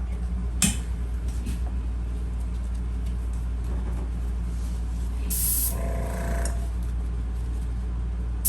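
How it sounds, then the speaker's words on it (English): An airbrush spraying a finish onto a sharpfinger knife gives short bursts of hissing, one brief and a longer one later, over a steady low hum in a workshop. "especially if I apply it with my airbrush"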